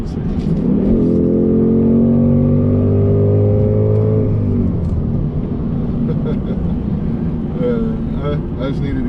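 A Race Red Ford Mustang S650 GT's engine revs climb steadily for about four seconds, then settle into a loud, steady drone heard close from inside the car on the road.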